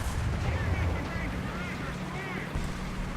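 Heavy gunfire and booming cannon blasts from a War Thunder battle roll on continuously, dense and loud, with a rumbling low layer throughout.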